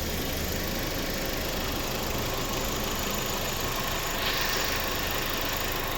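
A steady, low petrol engine idle from a 2008 Audi A4 2.0 MPI, longitudinally mounted, runs throughout, even and continuous with a constant rumble and faint mechanical vibration, close by, under the open hood.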